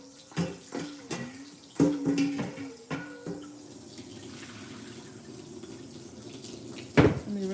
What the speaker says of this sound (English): I'm just gonna rinse it out